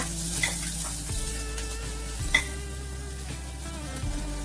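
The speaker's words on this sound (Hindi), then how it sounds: "अब उड़द की दाल ब्राउन हो चुकी है तो अब हम इसमें प्याज डालेंगे।" Onions frying in oil with browned urad dal, a soft steady sizzle with a few clinks and stirring scrapes, close and moderately quiet, no voices.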